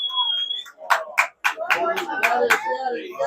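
Crowd at a high school baseball game, Andrews vs Greenwood, clapping in a steady rhythmic beat of about eight claps, close and clear, with a brief electronic tone and voices mixed in.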